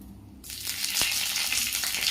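Cloves, a bay leaf, cinnamon and cumin hit hot oil in a pan and break into a loud, steady sizzle that starts abruptly after a short quiet moment and keeps crackling without pause.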